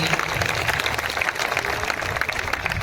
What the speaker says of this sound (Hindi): जोरदार तालियों की गड़गड़ाहट करके बताइए